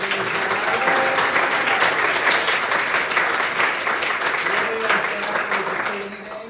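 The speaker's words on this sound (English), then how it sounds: "let's give the crew a big round of applause" Audience applause for the crew at a board meeting, steady dense clapping that holds for the whole stretch at a constant level and tapers slightly at the end, with a voice faintly underneath.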